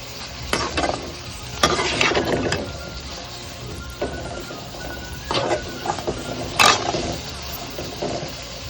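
A spoon scrapes and stirs boiled green peas with salt and grated coconut in a pan, giving soft sizzling under irregular close clinks and scrapes of utensil against metal.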